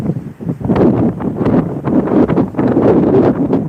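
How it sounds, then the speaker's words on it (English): Heavy outdoor wind buffets the microphone in loud, continuous rumbling gusts with rustling flutter, filling the whole stretch without pause. "Hope y'all can hear me because the wind is getting kind of heavy"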